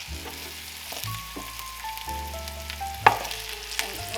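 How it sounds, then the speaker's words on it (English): Lamb shanks fry with sautéed onions in a pan, giving a steady soft sizzle with occasional clinks and scrapes of a utensil against the metal. "we're gonna fry these about maybe 5 minutes, make them golden"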